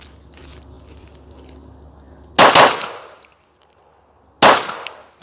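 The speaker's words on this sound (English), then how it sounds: "Shooting doubles from 5, now I'm shooting 9." Two sharp, loud Glock pistol reports from a doubles drill at 9 yards, each a rapid pair of shots, the second burst about two seconds after the first, with only quiet range background in between.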